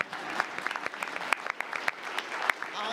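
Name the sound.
applause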